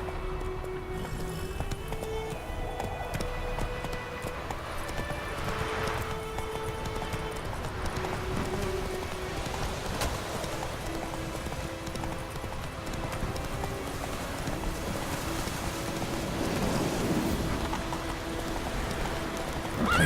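Horse hooves in The Witcher 3 clop steadily at a gallop for a long stretch, rhythmic and fairly close, with game music and ambient sound layered underneath.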